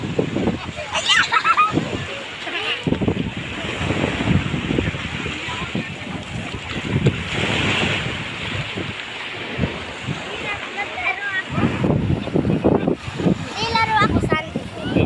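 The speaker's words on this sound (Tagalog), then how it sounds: "Ang lakas ng alon, ah." Rough, churning wave noise and gusty wind roar continuously at a beach in Morong, Bataan, Philippines, with people talking and calling out over the strong surf.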